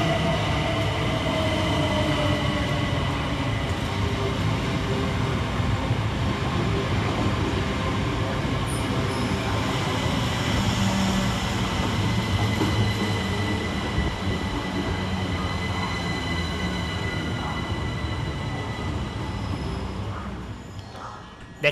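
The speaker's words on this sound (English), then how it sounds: "Next to arrive into the station is 375823 and 375612, with the 1627 Southeastern service from London Victoria to Ramsgate and" Southeastern Class 375 electric multiple units pulling into Gillingham station in Kent, a steady rumbling roll of wheels and motor hum with faint rail squeal, continuous and fairly close before easing off at the end.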